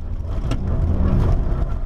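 A Nissan R35 GT-R Nismo on the Nurburgring in third gear, its engine a loud, steady close-up drone with a low rumble and rising whir under hard throttle, heard from inside the car without a break.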